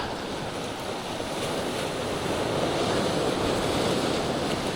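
Ocean surf rolls and crashes continuously at sea near sharks, loud and broadband, with heavy wind buffeting the microphone and the wash swelling slightly stronger toward the end; no voices.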